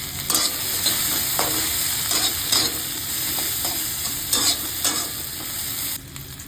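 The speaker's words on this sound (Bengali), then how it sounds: "উচ্ছে ভেজে নিলাম।" Bitter gourd frying in a kadai with tempering spices: a steady close sizzle with intermittent spatula scrapes and stirring bursts, and a brief drop in level near the end.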